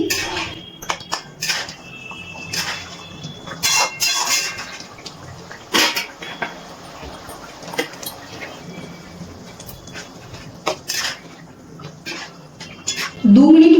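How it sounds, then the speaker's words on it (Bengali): Soya chunk koftas being stirred gently in curry gravy in a cooking pot, with scattered soft clinks and scrapes of a spoon against the metal over a quiet background. "এবার ভেজে রাখা কোপ্তাগুলো এই ঝোলের মধ্যে ছেড়ে দিচ্ছি কোপ্তাগুলো দিয়ে খুব কিন্তু বেশিক্ষণ ফোটাবো না হালকা হাতে একটু নাড়াচাড়া করে দিচ্ছি"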